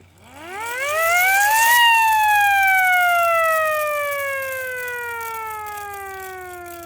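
A hand-cranked siren winds up over about two seconds to a loud, rising wail, then slowly falls in pitch as the cranking eases, ringing out alone without voices.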